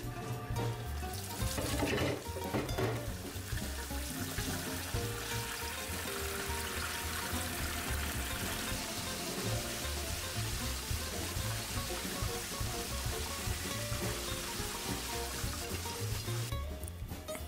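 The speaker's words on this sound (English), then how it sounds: "The recipe says that you're gonna fry all the pork twice." Pork ribs fry in hot oil for garlic fried ribs, a steady, loud, hissing sizzle that runs unbroken with no talking.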